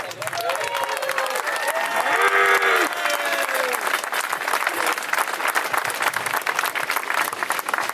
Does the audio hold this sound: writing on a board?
no